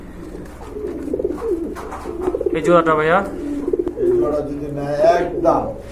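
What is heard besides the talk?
pigeons cooing, Jhorna satin pigeons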